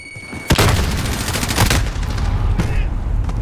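A grenade goes off in the video game Modern Warfare, a sudden loud blast around the half-second mark followed by dense rattling gunfire and further bursts, with game noise filling the background.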